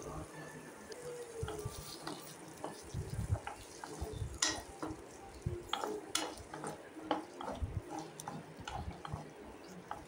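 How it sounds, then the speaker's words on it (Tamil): Small onions sauté in oil in a pan for a chicken curry, with a steady low crackle and irregular scraping stir strokes and clinks of a utensil; no voices. "அதே வடிச்சட்டியில் எண்ணெய் ஊற்றி வெங்காயம் வதக்கணும்."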